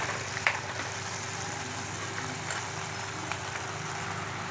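Water coming to a boil in a covered pot on high flame, making a steady, even hiss and rumble of bubbling with a few small ticks, and no voices.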